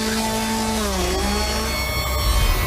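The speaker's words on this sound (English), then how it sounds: "You have a chainsaw that comes after you." A chainsaw drones loudly and continuously in a haunted-attraction cornfield, its buzzing engine pitch wavering and dipping briefly, with a low rumble building at the end.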